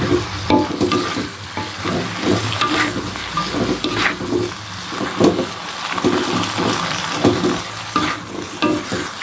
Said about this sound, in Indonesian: Masukkan bumbunya, aduk merata ya.